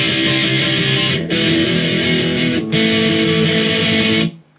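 Overdriven electric guitar chugging through chorus A of a song, with dense power chords in brief bursts and short breaks, loud and alone before a sudden stop.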